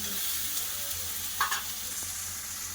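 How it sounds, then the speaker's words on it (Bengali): Chopped tomato frying with onion, ginger and garlic in a pan makes a steady, soft sizzle with a brief stirring scrape partway through, faint and continuous without any talking. "দিয়ে ভালো করে পেঁয়াজের সাথে ভেজে নেবো টমেটোটা"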